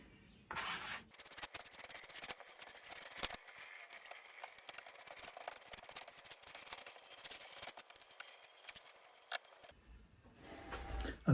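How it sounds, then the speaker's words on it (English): A small scraper spreads glue across a wooden guitar back in soft, repeated rubbing and scraping strokes, close and fairly quiet, with short pauses between passes. "we'll see how that works with my little scraper"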